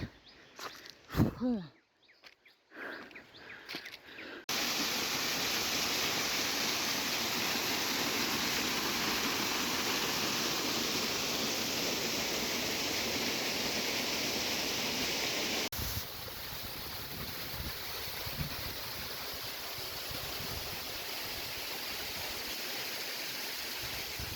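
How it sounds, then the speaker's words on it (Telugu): Rushing water of Katiki waterfall in Araku Valley, a dense continuous roar that rises abruptly after a few seconds of quieter sounds and continues steadily, slightly softer toward the end. "సౌండ్ వినిపిస్తుంది కానీ ఫాల్ మాత్రం కనిపించలే"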